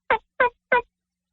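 A human voice imitates a turkey hen's call: three short, evenly spaced yelping notes, loud and close, followed by silence.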